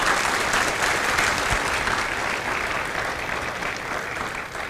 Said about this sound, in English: a round of applause for our recruiters and our combat instructors